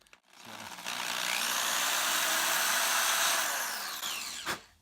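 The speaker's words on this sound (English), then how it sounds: "So I'm actually just going to use a drill to drill through the board." A handheld power drill spins up and bores through a fiberglass robot circuit board, a loud, steady high whine held for about three seconds before spinning down with a brief clatter at the end.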